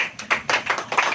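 Church congregation clapping along in a quick rhythm, about five or six close, sharp claps in quick succession.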